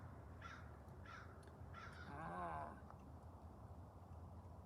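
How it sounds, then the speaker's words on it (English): A crow caws three times in quick succession from a moderate distance, followed by a brief rising whistle-like call, all over steady outdoor background noise. "The crow is speaking."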